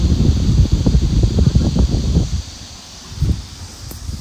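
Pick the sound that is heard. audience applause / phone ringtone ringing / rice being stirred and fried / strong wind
strong wind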